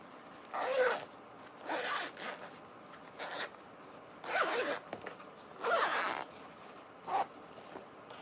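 A zipper on a sewing project, a lined piece with a gusset, is pulled open in about six separate short rasping strokes, close and clear with no talking.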